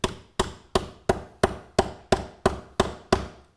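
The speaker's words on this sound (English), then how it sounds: "So I just tapped it lightly a few times." A mallet lightly tapping a magnetic snap rivet to set it, ten even, close knocks at a steady pace, each a sharp crack that quickly dies away, with no talk.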